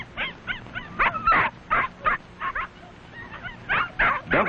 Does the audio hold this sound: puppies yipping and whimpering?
yes